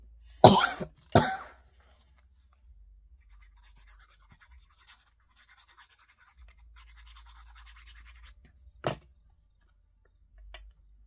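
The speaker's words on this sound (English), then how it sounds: "Sometimes my cough gets to me." Two sharp, close coughs in quick succession, then quiet with faint insect chirping, a single throat sound later, and a soft thud near the end.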